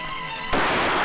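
A sudden gunshot in a Hindi action film erupts halfway through as a loud broadband burst, ending a quiet musical passage and sustaining a noisy crack and rumble afterward.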